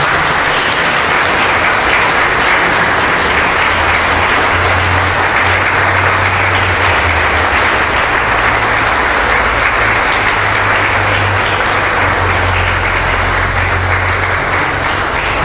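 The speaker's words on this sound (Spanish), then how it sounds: "Vamos a darle un fuerte aplauso a la quinceañera" A church congregation at a quinceañera Mass gives the birthday girl a loud, sustained round of applause, dense clapping filling the whole stretch with a low hum beneath.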